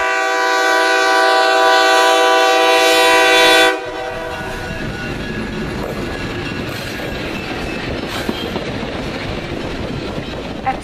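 An Alco FPA diesel locomotive on the New York and Lake Erie Railroad near Gowanda, New York sounds a loud, sustained horn blast, then gives way to the close, rumbling roar of the engine and rolling train.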